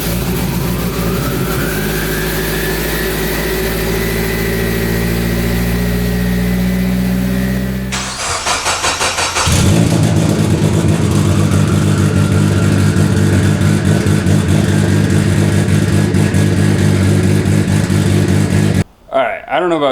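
A Mitsubishi Evo X with a titanium exhaust idles steadily, then a sharp burst is followed by a louder, fuller engine note that holds with revving, close to the microphone.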